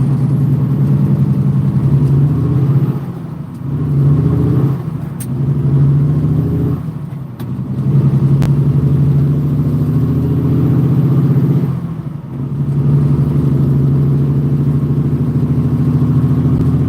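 A car drives along a road near Indianapolis, its engine and tire noise rising and easing in repeated waves as it accelerates and shifts, loud and close inside, with no talk.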